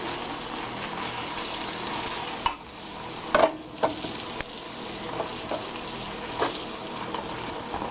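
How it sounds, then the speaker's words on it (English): Sirloin steak frying in a pan gives a steady close sizzle with a few louder stirring scrapes and clinks, and no voices. "let's allow this to cook until your meat turns brown"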